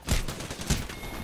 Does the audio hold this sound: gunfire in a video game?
yes